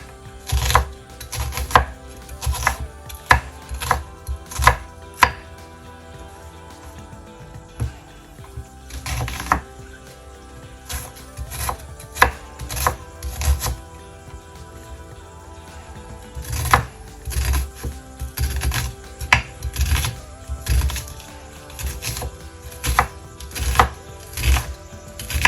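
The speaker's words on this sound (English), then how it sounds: "Just a rough chop." Rough chopping with a knife on a board, probably garlic or vegetables for Afghan Kabuli palaw; loud, close, irregular bursts of sharp knocks with brief pauses between runs.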